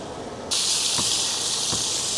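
Steak hits a hot pan with a sudden, loud, steady sizzle that starts abruptly and holds at full strength, close and with no talking.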